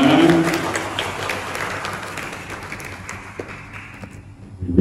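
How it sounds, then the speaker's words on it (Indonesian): Audience applause during a quiz session with teams scoring points, clapping loudest at the start and tapering gradually, with a few scattered taps and thuds as it fades. "Mana tepuk tangan semuanya."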